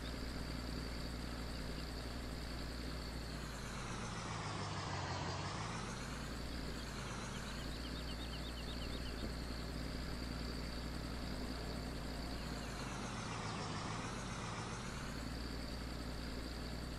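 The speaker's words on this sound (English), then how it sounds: "I'm just gonna park my truck here" Truck in the Farming Simulator 19 video game, set on the Lone Oak map, droning steadily as it parks, with engine pitch sweeping down and back up twice, no talking over the loud, continuous sound.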